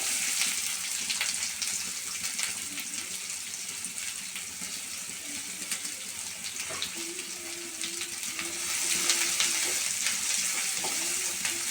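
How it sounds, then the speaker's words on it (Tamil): Onions frying in a pan for Erode-style mutton gravy give a steady, broadband sizzle that runs unbroken throughout, moderately loud and close, with no voices over it. "வெங்காயம் நல்லா வதங்கட்டும்"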